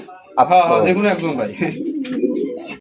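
Native village pigeons coo close by in a soft, throaty, rolling call lasting a couple of seconds, then trail off into a quieter, looser murmur.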